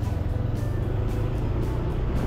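A motorized tricycle drives close behind on a road, making a loud, steady motor drone with a throbbing low hum that runs unbroken through the short stretch.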